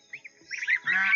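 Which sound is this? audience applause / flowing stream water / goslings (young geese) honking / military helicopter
goslings (young geese) honking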